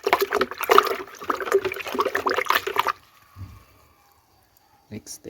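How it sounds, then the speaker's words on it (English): A liquid mixture sloshes and splashes as it is stirred vigorously for about three seconds, close and loud, followed by near silence and a brief final stir. "Mix it thoroughly."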